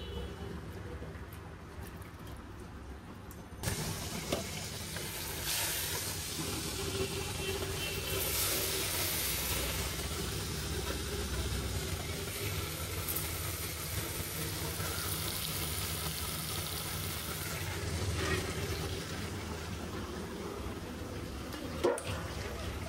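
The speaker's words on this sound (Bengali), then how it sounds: "মাছগুলো ভাজা হয়ে গেছে।" Fish pieces, including a head, sizzle steadily in hot oil with a dense, even crackle that starts abruptly and continues at moderate volume; a dog barks faintly in the background.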